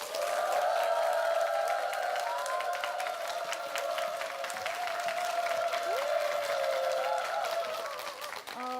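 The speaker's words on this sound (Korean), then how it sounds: "우리한테 재미나고 의미 있는 강의를 해주실 임서영 소장님을 큰 박수로 맞아주시기 바랍니다" Large audience applauding to welcome a lecturer onto the stage at a televised Korean special lecture, steady sustained clapping with crowd murmur lasting throughout, with a sustained tonal hum running underneath.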